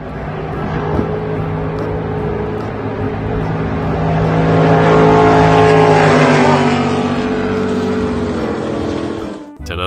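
A motorboat engine drones loudly and steadily, rising in pitch and intensity midway before easing off, with rushing water beneath.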